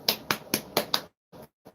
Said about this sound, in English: Sorry, I hate clapping.